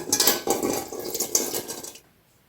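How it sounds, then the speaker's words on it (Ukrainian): Water splashing and pouring from glass jars into a metal pot with light clinks of glass, continuing for about two seconds before stopping into quiet. "Зливаємо воду у каструлю"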